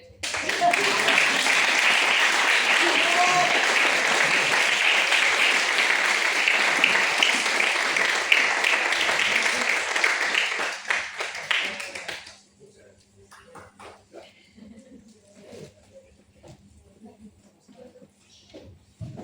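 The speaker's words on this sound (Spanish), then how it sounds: "Podéis aplaudir" An audience claps and applauds during a rehearsal for the Carro de Plata awards gala, loud, sustained applause for about twelve seconds that then stops abruptly, leaving scattered faint sounds and a little talking.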